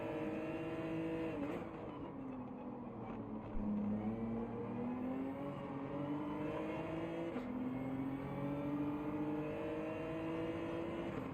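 Race car engine in Gran Turismo 7 holding a steady, loud drone whose pitch sweeps down and back up as it revs, with tire noise underneath, and no talk over it.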